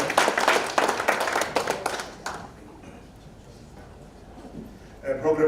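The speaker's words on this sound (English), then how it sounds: "I'd like us to give him a round of applause" An audience at a conference launch applauds loudly for the city manager for about two seconds, dense close clapping that dies down into quiet room noise before a voice starts speaking.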